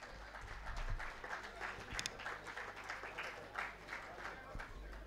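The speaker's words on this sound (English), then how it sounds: "A round of applause, please, as she comes forward." At an international students' graduation ceremony at Andhra University, the audience gives faint, distant applause, a thin, uneven patter of hands that goes on for several seconds with voices murmuring beneath.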